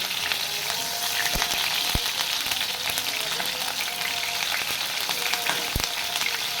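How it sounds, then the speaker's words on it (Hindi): A piece of beef steak for a restaurant-style recipe fries in hot oil, giving a steady, dense sizzle with a few sharp pops and crackles, close and continuous with no talking. "ऑयल हमारा गर्म हो चुका है, इसमें भी डालेंगे बीफ का पीस डाला है, और एक साइड इसकी तरह से पकाएंगे।"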